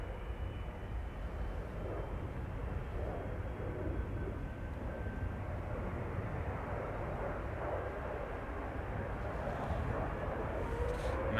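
A United Airlines Boeing 777-200 bound for Houston passes with a steady, broad engine roar that holds level throughout and swells slightly near the end.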